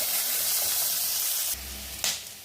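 Masala and curry leaves sauté in a pan on low heat for a chicken gravy, giving a steady close sizzling hiss that drops briefly and then flares in a short louder burst near the end, with no talk.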